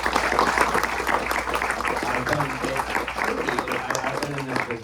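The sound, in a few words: audience applause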